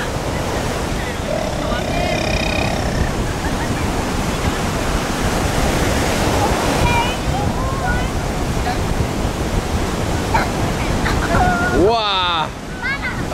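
Ocean surf on a Hawaii beach, a loud roaring wave washing in with broad, steady rushing noise throughout, while children and adults shout and talk over it.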